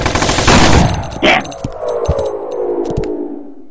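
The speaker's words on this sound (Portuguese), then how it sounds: "Eita, metralhadora, corre." Bursts of rapid machine gun fire in the 2D shooter game Boring Man, loud at first and fading into scattered shots and clicks amid game effects.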